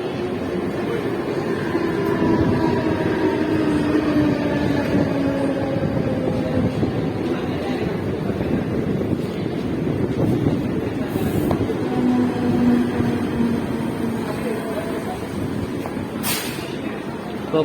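A local train bound for CST rumbles and rolls to a stop at a station, with brakes squealing and a steady mechanical drone filling the space, voices faint in the background.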